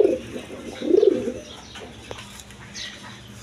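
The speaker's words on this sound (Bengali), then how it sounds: "এখানে এক পেয়ার গররা কবুতর আছে" A pair of Garra pigeons, one Mili-coloured and one red, coo softly at close range in two low throaty bursts near the start, followed by faint chirps and quiet background sounds.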